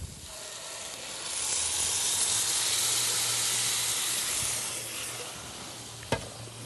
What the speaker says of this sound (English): We're going to give it a quick stir.